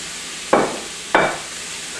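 Tomatoes dropped into a pan of cooking shrimp, two sharp bursts of sizzling about half a second apart, each fading quickly over a soft background hiss.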